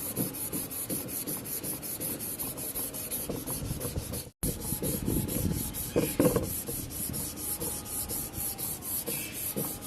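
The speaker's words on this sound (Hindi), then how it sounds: "रेगमाल को बहुत अच्छे से लगाना होता है इस पर।" Sandpaper rubs back and forth over a wood surface being prepared for PU sealer, a steady close rasping scrape in quick repeated strokes with a brief pause midway, and no one talking.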